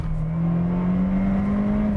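A Nissan S15 Silvia Spec R with its four-cylinder engine accelerates hard, a steady, loud interior drone rising gradually in pitch through one continuous pull, no talking.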